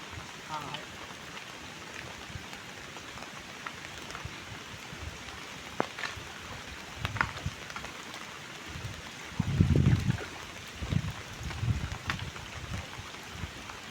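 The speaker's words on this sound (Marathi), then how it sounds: "पाऊस आता राहिला पाहिजे." Light rain falls steadily over rice paddy fields during transplanting, a soft continuous patter with scattered splashes and a few louder bursts of water or movement near the end.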